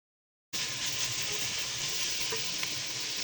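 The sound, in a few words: onions and capsicums frying and being stirred in pan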